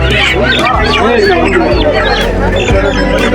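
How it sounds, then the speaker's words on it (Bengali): Chickens cluck and squawk amid a dense crowd murmur and voices at a chicken market in Haluaghat, near the Meghalaya border, a busy, steady bustle with no pause. "সারি সারি সবাই কিন্তু মুরগি নিয়ে বসছে"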